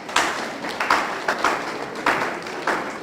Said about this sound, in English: Please do give him a big round of applause